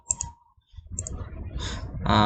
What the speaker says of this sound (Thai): คลิกขวานะครับ แล้วไป Visualize Tree นะครับ